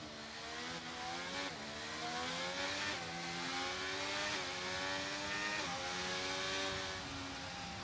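A failing F1 car engine in the F1 23 game at the Jeddah Grand Prix, its high whine rising and dropping in repeated gear-shift sweeps, loud and continuous with no talk.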